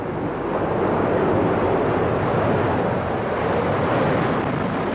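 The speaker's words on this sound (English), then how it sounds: "Speedbird Concorde 1, clear to takeoff." Concorde jet airliner taking off from runway 28 left, a continuous broad, rushing roar heard from a distance, steady and loud throughout without any voices.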